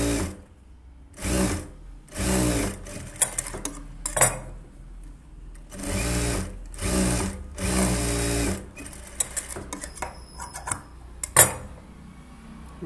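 A sewing machine stitches a blouse hook belt in short close bursts of rapid whirring, separated by pauses and small clicks of handling the fabric.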